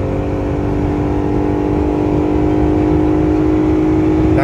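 A Jeep Gladiator V6 pulling a trailer accelerates up to highway speed, its engine a loud steady drone with a low rumble and faint whine, close and continuous, with no talking.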